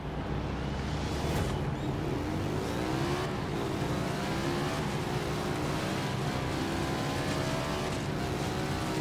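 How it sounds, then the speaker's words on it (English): An ATV engine in Forza Horizon 3 revs steadily while racing a blimp, its buzzing tone climbing and holding close and loud throughout. "So we're racing a blimp with an... I guess this is an ATV?"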